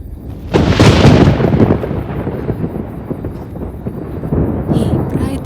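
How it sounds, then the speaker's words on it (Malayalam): A loud, close thunderclap bursts out in a film scene, then rolls into a long, fading rumble that swells again briefly near the end. "എന്തൊരു ഇടിയായത്, ഉറങ്ങാൻ സമ്മതിക്കില്ല."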